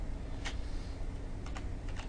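Computer keyboard keys, the WASD set, pressed to move around a 3D modeling screen, giving a few light, scattered clicks over a steady low hum.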